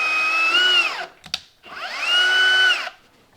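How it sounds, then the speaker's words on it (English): A power drill whirs into a wall in two long bursts while curtain rods are installed, spinning up and winding down each time, with a short clatter in the pause between. "Just drilling right into the wall where the marks are."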